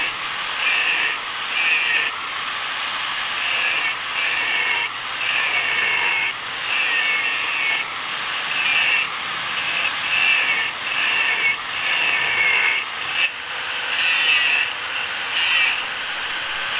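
Angle grinder running continuously on a workpiece, a steady loud abrasive whine with brief dips where the disc is lifted or pressure eases, close to the listener and with no talking.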